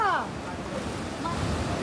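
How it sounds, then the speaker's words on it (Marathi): Sea waves wash along the Konkan coast of Maharashtra, a steady broadband surf roar with wind buffeting the microphone, heard close and continuous for a brief moment. "समुद्र एवढा अफाट समुद्र आहे तुझ्यासमोर"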